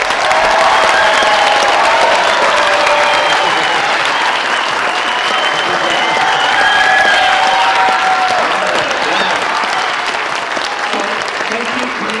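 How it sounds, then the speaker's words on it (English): An audience at a Spanish-immersion elementary school ceremony applauds fourth graders, with dense, loud, sustained clapping lasting about twelve seconds and a faint crowd murmur beneath it. "Let's give them a round of applause."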